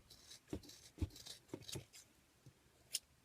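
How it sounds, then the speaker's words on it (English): Scissors snip across bundled yarn strands for a pompom in a series of about six quiet crisp cuts, irregularly spaced and close-up, with no voices. "I'm going to cut across all of those"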